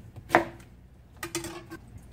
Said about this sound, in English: I'll go ahead and cut the whole thing up